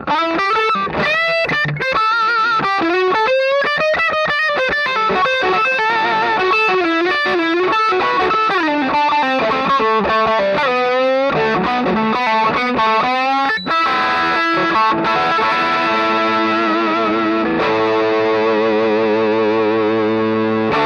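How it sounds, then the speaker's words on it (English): An electric guitar with a rear humbucker plays through a Marshall 25/25C Mini Jubilee amp, giving loud, distorted, sustained lead lines and bends that run continuously before settling into held chords near the end, with no talking. "So this would be kind of an idea of what a Les Paul might sound."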